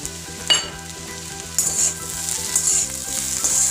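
Fried peanuts tipped into okra frying in a pan: a loud, continuous sizzle with a bright clatter as the nuts land, then a brief surge of frying noise.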